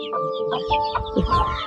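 Country hens in a backyard poultry pen give short, close clucks and soft throaty calls, a few overlapping birds in quick bursts.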